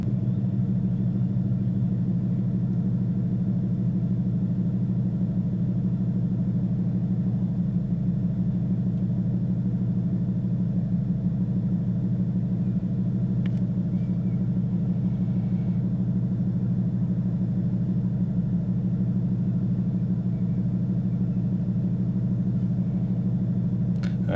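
A Ford Mustang 5.0 engine with a detected misfire fault runs steadily in neutral while fully warm, a constant low rumble throughout with no talking.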